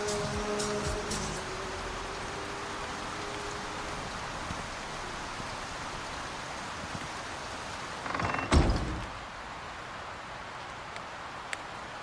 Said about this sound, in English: Is this acid rain going to burn me?